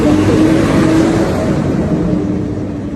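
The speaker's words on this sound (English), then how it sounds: "Audi, BMW, সব ধরনের দামি গাড়িগুলো এই রাস্তায় চলাফেরা করে।" Cars, including expensive models like Audi and BMW, driving along a Hong Kong street, a loud steady engine whir and roar that fades slightly toward the end, with no voices.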